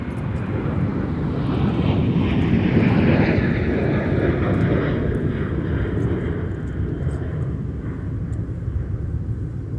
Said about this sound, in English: here comes American Airlines down 30 left for Dallas